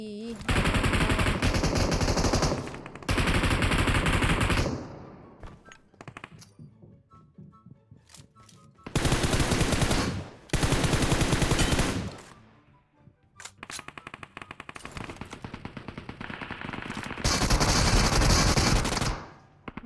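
Long bursts of rapid automatic gunfire from the mobile game PUBG Mobile, loud and sustained with brief gaps between volleys, and a few softer scattered shots in the quieter middle stretch.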